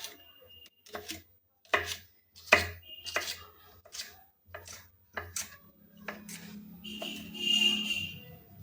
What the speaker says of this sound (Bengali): এইভাবে আমরা সমস্ত পেঁয়াজগুলিগুলোকে কেটে নেব।